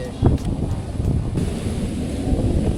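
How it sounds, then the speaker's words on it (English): Strong wind blowing outdoors during striper fishing, buffeting the microphone with a constant low rumble and a few sharper gusts near the start. "You guys see how windy it is out here?"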